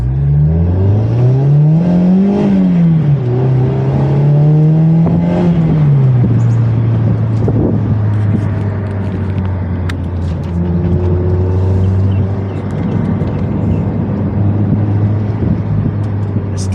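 A Mazda MX-5 convertible drives with its roof down, its engine loud and close, rising and falling through gear changes before settling into a steady cruising drone with wind and road noise.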